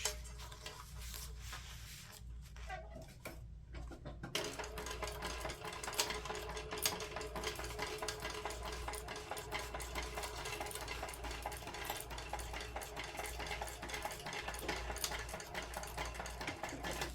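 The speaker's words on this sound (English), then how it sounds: "sew together at a 1/2 inch" A sewing machine runs a half-inch seam joining a gusset to the base of a messenger bag, giving a steady, continuous whirring hum that is fairly quiet and close with no talking.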